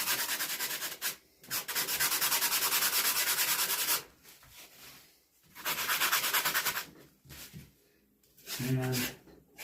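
Rough, raspy rasping as a carved fish body is shaved down for fitting a mounted crappie, in long sustained strokes broken by short pauses, close and loud.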